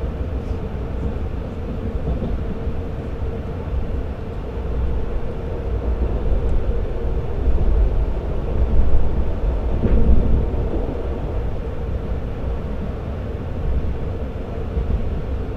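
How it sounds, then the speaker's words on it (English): Commuter train running in the Cities: Skylines video game, a steady low rumble that swells slightly midway and continues evenly throughout without speech. "This is a Mountain View bound train."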